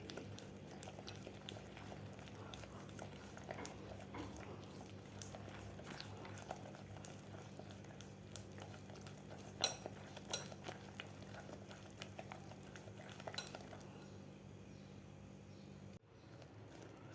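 Ghee and sugar are beaten together in a bowl for nankhatai, a steady soft scraping and tapping of the whisk against the bowl that continues evenly and quietly, close by, before pausing near the end.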